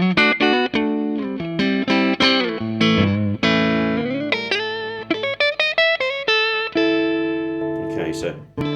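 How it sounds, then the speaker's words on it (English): A Mayones Aquila electric guitar rings out on a clean tone with reverb, with picked notes and chords struck in quick succession and left to sustain and decay, loud and close. "I think we're just on pure clean with a bit of reverb at the moment."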